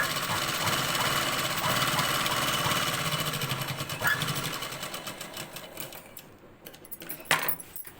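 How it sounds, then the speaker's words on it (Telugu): A sewing machine stitches blouse fabric in a rapid continuous clatter, loud and close, then slows and stops into quieter handling noises and a few clicks. "కుట్టు వేసుకోవాలి"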